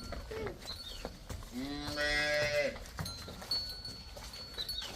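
A dairy cow lets out a long, loud moo nearby on a farm, with faint background voices and farmyard noise around it.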